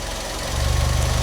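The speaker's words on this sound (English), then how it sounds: "So it's ticking over nice." A Fiat 500 engine ticking over at a warm idle with the choke off, giving a steady, close, loud low rumble with a slight uneven pulse and no talk.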